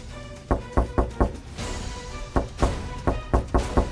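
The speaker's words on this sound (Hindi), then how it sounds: "उसी पल दरवाजे पर दस्तक हुई" Someone knocks on a door at night, several sharp, close raps in quick bursts of three or four, repeated in two groups with a short pause between.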